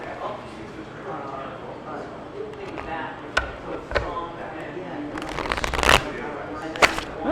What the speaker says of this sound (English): My cards just like spill all over the place.